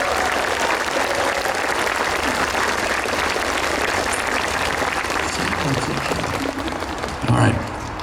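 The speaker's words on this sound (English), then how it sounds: "How about a round of applause for our MCs?" A crowd at a flag placement ceremony gives a round of applause, loud continuous clapping and cheering that holds steady, with a brief voice near the end.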